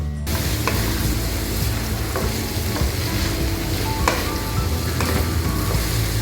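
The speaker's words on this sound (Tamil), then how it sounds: "சும்மா ஒரு 5 நிமிஷம் வதக்கிங்க போதும்" Four onions sautéing in a pan for spicy peanut chicken, a continuous close sizzle and frying hiss with a spoon or spatula stirring and scraping at intervals.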